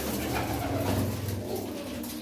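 Pigeons coo in low, throaty warbles close by, several birds overlapping in a continuous bubbling murmur.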